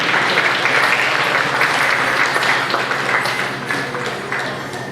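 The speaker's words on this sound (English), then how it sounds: "Let's give him a nice round of applause." Sustained applause from a crowd at a powwow dance competition in a dance hall, honoring a men's chicken dance competitor; dense, steady clapping that stays loud and slowly thins toward the end.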